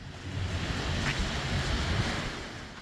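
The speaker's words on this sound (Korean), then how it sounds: "여기는 속초 해수욕장입니다" Surf rolls in at Sokcho beach on Korea's East Sea as a steady, broad wash of breaking waves, with wind buffeting the microphone and no voices.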